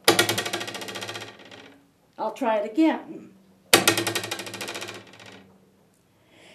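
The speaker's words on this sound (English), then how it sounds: "I have an inexpensive plastic ruler, and I'm going to put it up against this card table and just hit it" An inexpensive plastic ruler held against a card table and struck, giving two loud buzzing, rattling vibration bursts that fade out, with a brief spoken remark between them.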